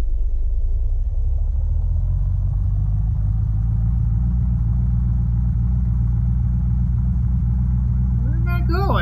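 A vehicle drives along a road in the video game Unturned, a steady low engine rumble that slowly builds in pitch and holds loud and constant throughout, with a brief burst of other game sounds right at the end.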